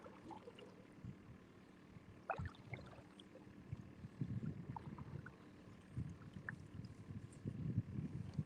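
Wind gusting on the water around a kayak on a morning crappie fishing outing, a low, uneven rumble of microphone buffeting with occasional light knocks and splashes, no one talking.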